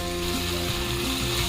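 Chicken pieces dropped into a pan of lightly browned onions for a stew, giving a dense, continuous sizzle and frying hiss close to the microphone, with no talking.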